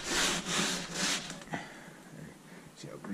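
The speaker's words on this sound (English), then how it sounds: "just go over everything a few times more with the scraper" Scraper rasping over a greasy beaver pelt during fleshing, rough strokes repeated several times close up, loud at first then softer, with occasional knocks and speech nearby.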